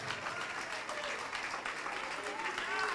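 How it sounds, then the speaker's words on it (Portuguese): Steady applause from a church congregation fills the whole stretch, dense and continuous, with a voice faintly audible beneath it. "vamos aplaudir ao Senhor Jesus"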